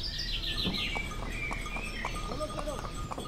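Morning birds chirp and tweet in bright, scattered bursts during a horse-drawn tonga ride in Agra, with the steady clip-clop of hooves and road rumble running underneath throughout.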